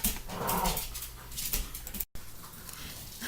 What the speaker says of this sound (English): I'm sure you heard them. I had 2 of my dogs in here